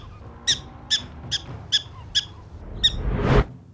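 A prairie dog calls in a series of about seven sharp, evenly spaced high chirping barks, fairly close and clear, followed by a brief rustling burst at the end.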